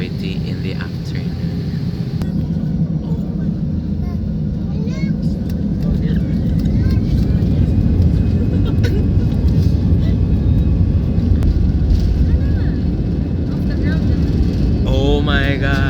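Passenger airplane cabin during takeoff, with a steady broad engine roar filling the space throughout and faint voices now and then beneath it.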